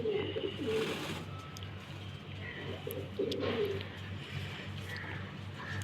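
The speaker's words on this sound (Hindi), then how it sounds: "और दोस्तों ये पुराने कबूतर हैं" Older pigeons in a loft coo in soft, repeated throaty bursts, close by and fairly steady, with a few faint chirps and a low background hum underneath.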